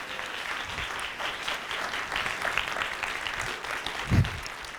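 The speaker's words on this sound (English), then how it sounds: "just a round of applause for the panel this evening" An evening audience at a technology and media panel event claps steadily for the panelists, a continuous mid-distance applause with a brief louder thump near the end.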